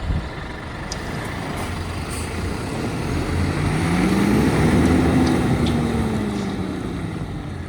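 A Scania truck makes a run on slippery ground to get unstuck, its engine rumbling and swelling in revs toward the middle before easing off, steady and close with faint clicks and squeaks over the top.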